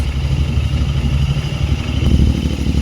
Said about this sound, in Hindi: राइड कर रहे हैं मेरे दोस्त इब्राहिम